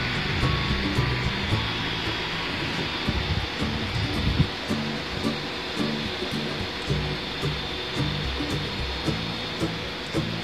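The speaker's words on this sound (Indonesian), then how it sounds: "Jadi bisa didengar suara berisik. Ini berasal dari fan kipas seluruh VGA." Cooling fans on the graphics cards of an Nvidia crypto mining rig running Zcash, giving a loud, steady broadband whir with a low hum and faint rhythmic ticking throughout, close by and without voices.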